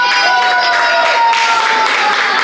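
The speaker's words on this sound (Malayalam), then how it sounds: "എല്ലാവരും കൈയടിച്ചേ." An audience at an Onam celebration prize giving applauds steadily, a dense, loud wash of clapping from a crowd that stays even throughout, with a voice speaking under it.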